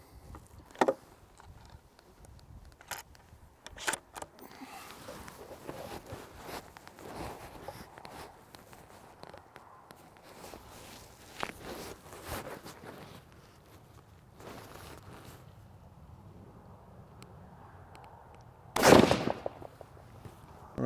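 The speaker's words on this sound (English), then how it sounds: "I'm going to fire again here." A scoped rifle fires a single sharp, loud shot near the end during a sighting-in session, preceded by quiet handling clicks, rustling and faint movement noises.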